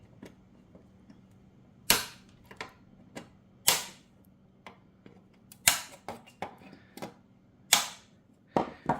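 Sharp snips of cutters trimming the ends off a still-warm plastic weld made with a hot-staple plastic welder, about eight loud separate clicks spaced a second or two apart in a quiet room.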